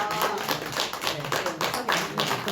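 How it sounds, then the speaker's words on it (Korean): A church congregation claps during a presentation at a Sunday afternoon service, greeting a handover and photo. Moderate, somewhat uneven bursts of hand claps run throughout the short stretch, with a little voice mixed in. "전달하실 때 박수로 박수 하겠습니다"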